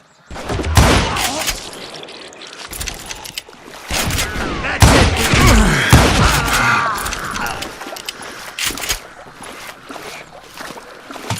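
Gunfire in the Western shooter Call of Juarez: Gunslinger, with repeated loud shots and rapid volleys cracking across the whole stretch amid busy game sound.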